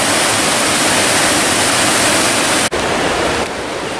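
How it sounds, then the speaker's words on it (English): Powerful water rushes down a flume in a steady, loud roar, dense and unbroken at close range, with one brief dropout near the end. "That is a powerful source of water right there."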